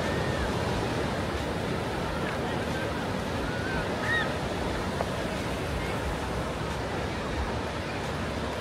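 Waves at Caron Beach at sunset, a continuous broad roar of surf close by, with faint distant bird calls drifting over it.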